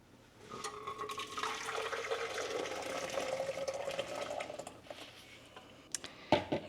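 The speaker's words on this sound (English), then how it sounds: "So what I'm going to do is strain this." Spiced cranberry juice pours through a strainer in a steady splashing trickle that lasts several seconds, then tapers off, followed by a few light clinks.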